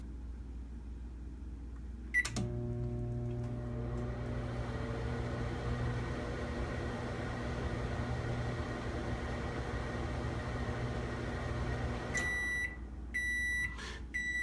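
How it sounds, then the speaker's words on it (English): A microwave oven heating bread hums steadily for about ten seconds after a start beep, then finishes with a short series of sharp electronic beeps, close and alone with no talk. "turn on the microwave, set it for the appropriate time."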